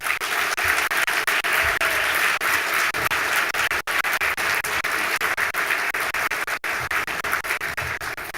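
A large audience at a Louisville event applauds to welcome Mayor Greg Fischer, a sustained, even wash of clapping that continues for several seconds without letting up.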